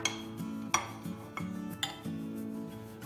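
A spoon clinks and scrapes against a dish while mantı filling is spread with its back, giving several light taps and short scraping strokes at close range in a quiet kitchen.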